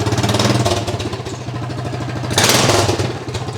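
A rebuilt John Deere engine runs close by, a loud, steady chugging throb with a rough mechanical clatter that briefly swells louder partway through.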